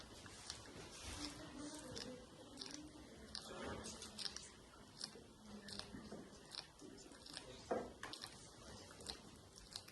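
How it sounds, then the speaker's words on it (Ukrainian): Household soap bar being grated by hand on a kitchen grater for candle making, giving quiet, irregular scraping and crunchy rasps in uneven strokes, close up and faint. "Ми беремо терку і стримо мило."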